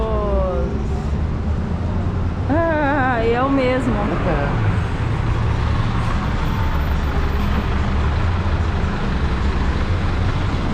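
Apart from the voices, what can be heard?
bus arriving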